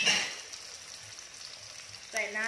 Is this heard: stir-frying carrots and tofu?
yes